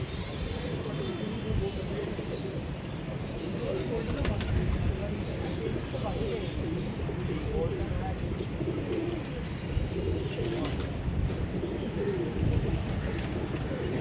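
Pigeons from a pigeon-flying contest coo softly and steadily outdoors, with occasional wing flaps and a constant busy background murmur.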